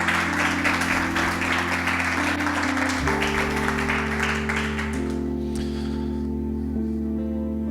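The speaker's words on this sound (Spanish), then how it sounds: "denle un fuerte aplauso al Señor en esta noche" A church congregation applauds, with brisk steady clapping that fades over the last few seconds while sustained keyboard chords play underneath.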